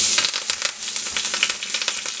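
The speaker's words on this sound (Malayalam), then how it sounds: "ഞാൻ ലോ ഫ്ലെയിമിൽ വെച്ചിട്ടാണ് ഞാൻ വറക്കുന്നത്." Grated coconut and shallots with curry leaves fry in hot oil over a low flame for a Kerala theeyal gravy, giving a dense, steady crackling sizzle that stays loud and close throughout.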